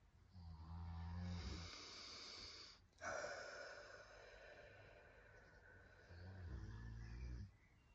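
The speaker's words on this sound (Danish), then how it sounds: "Man kan godt høre min hund lige ved siden af mig og snorke." A dog lying close by snores in a quiet room, slow drawn-out breaths repeating in a steady rhythm, soft and near.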